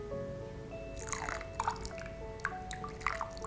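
Clean water poured from a small container over a feather, soft trickling and dripping in short bursts, quiet and close against a faint background hum.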